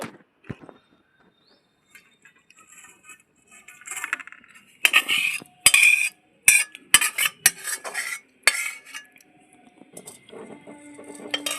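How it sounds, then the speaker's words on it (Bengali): Duck egg curry being scraped and served from a pan into a dish, with a metal spoon clattering and scraping against cookware in irregular bursts between quiet pauses. "ডিমের কালিয়া আমার হয়ে গেছে এখন আমি ঢেলে নিচ্ছি"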